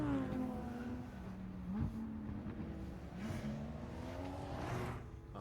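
A Lamborghini's 5.2-litre V10 races in an anime scene, its engine note holding a steady, loud drone with slight pitch shifts throughout, heard alone without speech.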